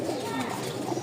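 A pigeon coos loud and close in a short, steady burst, with a person talking over it.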